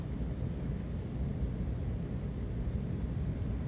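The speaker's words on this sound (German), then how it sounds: "Es ist windig ohne Ende." Wind blows outdoors in a steady, low rumbling rush against the microphone, faint and continuous with gentle gusting swells.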